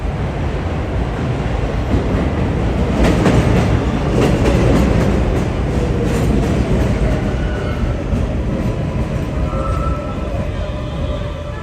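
A New York City subway train runs through an old elevated station opened in 1917 at 82nd Street in Jackson Heights, Queens, with a loud continuous rumble and rattling clatter of wheels close by.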